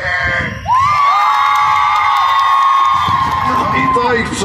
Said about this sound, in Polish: naprawdę głośne piski!